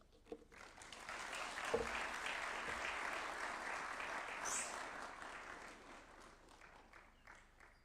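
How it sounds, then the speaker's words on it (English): An audience applauds at a public lecture event, a round of clapping that swells within the first second, holds steady for several seconds, then thins out toward the end. "Another round of applause for Professor Michael Chege."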